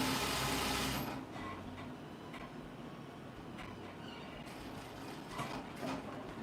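A sewing machine stitches pants fabric in a quiet room, a brief louder whir giving way to faint, uneven mechanical clicking and gear chatter with a few sharp ticks.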